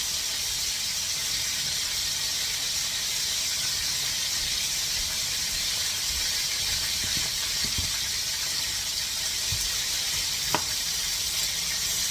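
Onions frying in a pan for cube steaks, a steady bright sizzle and hiss filling the whole stretch, with a few faint clinks and stirring sounds underneath.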